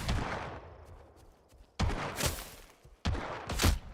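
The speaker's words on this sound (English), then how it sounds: "Who's shooting?" Gunshots in the open-world western survival game Legend of California, three heavy booming shots spaced over a few seconds, each with a long echoing tail, close and loud, with no talking.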